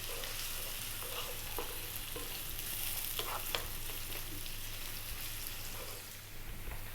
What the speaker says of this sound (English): In goes our onion and our garlic. Medium heat, 4 minutes.